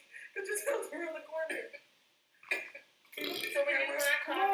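Loud, drawn-out burps in two long bursts separated by a brief quiet gap, heard close up with strong tonal voicing, apparently from a person burping during a prank at home.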